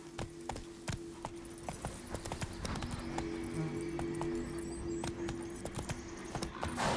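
Roach the horse gallops in The Witcher 3: Wild Hunt, a rapid, even run of hoof clip-clops up close over a low ambient hum, with no talk.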